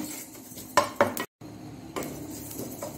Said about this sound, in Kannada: ಎಲ್ಲವನ್ನು ಹೀಗೆ ನಾನು ಫ್ರೈ ಮಾಡಿಕೊಳ್ತೇನೆ